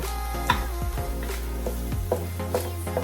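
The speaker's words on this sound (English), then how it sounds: "I'm also going to take some bay leaves. Boom. I don't care how many bay leaves you use, but I want to fry them off too" Bay leaves fry in a pot while chicken and sausage gumbo is made, giving a steady close sizzle with light stirring and scraping clicks over a low background hum.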